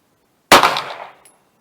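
A single 9mm handloaded round with 4.6 grains of HP-38 is fired over a chronograph at an outdoor range in cold weather, one sharp loud crack that trails off quickly.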